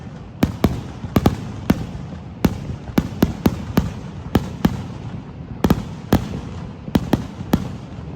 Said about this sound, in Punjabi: ਨਿਆਗਰਾ ਦੇ ਪਟਾਕੇ ਵੀ ਚੱਲ ਗਏ